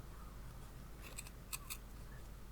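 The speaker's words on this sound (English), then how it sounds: "I'm going to fold this in half again, and I'm going to cut a little notch" Scissors make a few soft snips through folded fabric, cutting a small notch during bag sewing; brief faint clicks over a steady low hum, with no talking.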